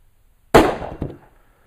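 A single sharp, loud rifle shot from a 30 T/C cartridge fired at exploding targets, followed half a second later by a fainter distant crack as the blast echoes away.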